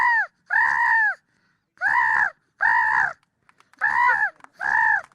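A voice imitates a crying baby crow in five loud, harsh, caw-like wails, each about half a second long, with short silent gaps between them.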